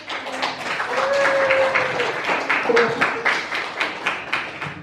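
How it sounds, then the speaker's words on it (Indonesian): Students in a classroom clap together after a group presentation, a steady dense patter of many hands with a few louder claps toward the end, with some faint voices mixed in. "Terima kasih, kita beri aplaus."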